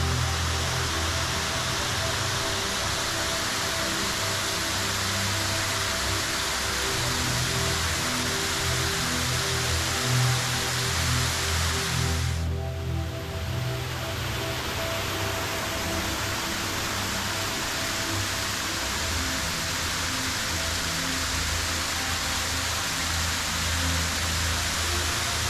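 Hector Falls, a waterfall beside Seneca Lake in the Finger Lakes of New York, roars loud and constant from nearby. The broad hiss of cascading water runs unbroken, with a brief dip in the upper wash partway through and no talking.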